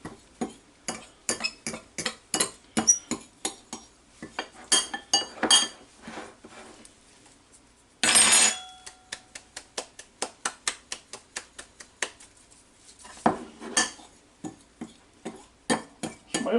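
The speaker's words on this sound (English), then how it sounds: "I'm going to stir all this up now." Honey garlic chicken wings are stirred in a bowl, with a utensil clinking and scraping against the sides in quick, repeated strokes, plus one louder, longer scrape midway. The sound is close and there is no talk.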